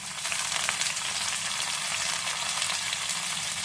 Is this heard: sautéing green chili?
yes